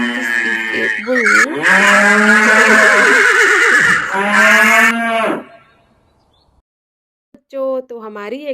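A bull lets out loud, drawn-out moos with strong wavering tones, two long calls back to back, then a pause before a shorter call starts near the end.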